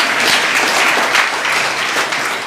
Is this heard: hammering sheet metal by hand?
no